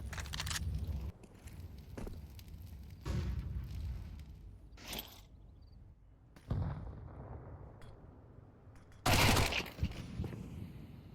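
Gunfire in a Counter-Strike match at a CSC Season 20 semi-final, with sharp single shots and short bursts separated by quieter stretches of footsteps and ambient game noise. A loud shot lands near the end.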